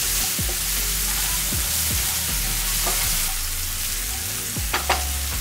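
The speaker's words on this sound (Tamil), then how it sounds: "இந்த வெங்காயம் வதங்கும் போது இந்த பச்சை பட்டாணியும் இதில் போட்டுக்கலாம்." Onion and green peas sautéing in a pan for paneer gravy, a dense close sizzle with repeated spatula strokes scraping the pan at an irregular pace, a couple of sharper clicks near the end, no talking.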